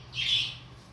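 Pet parrots give a single loud, harsh squawk that rises and fades within a second, heard close indoors over a low household hum.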